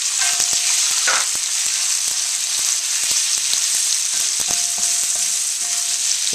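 Pork and shrimp instant ramen stir-fried over the highest heat, with a steady loud sizzle throughout and scattered sharp clicks and scrapes of a utensil stirring in the pan; no voices.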